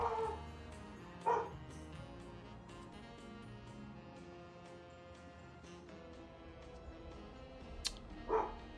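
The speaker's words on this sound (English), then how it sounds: "Might have heard my dogs here." Household dogs bark in a few short, distant bursts near the start and end, faint beneath a steady background of game sounds.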